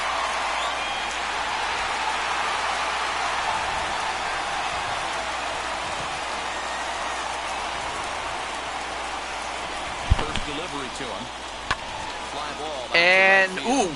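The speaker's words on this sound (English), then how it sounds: "Yeah, it's raining in the game." Steady hiss of rain falling over a ballpark in MLB The Show 21, a continuous wash that runs through the whole stretch, with a few sharp knocks and a brief burst of chatter near the end.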